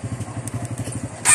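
A motorcycle engine runs during a half-clutch test after the clutch drum and clutch shoe were serviced, giving a rapid, uneven idle putter with close thumping pulses and a brief louder rev at the end.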